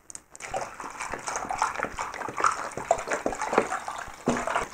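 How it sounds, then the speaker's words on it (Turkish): Water pours into sugared, squeezed lemon juice for homemade lemonade, a continuous close splashing and gurgling that runs for several seconds with small clinks of the container. "Şimdi içerisine suyu ilave edeceğim."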